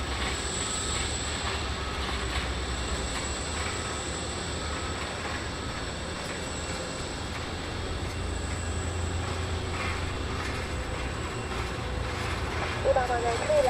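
A KLM airliner lands on runway 23 left at Taoyuan International Airport in Taiwan, with a continuous, loud engine roar and deep rumble, and faint radio talk beneath it.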